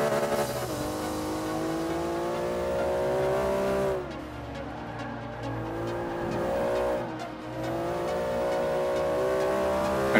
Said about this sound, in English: I'm still spinning the tires in fifth gear.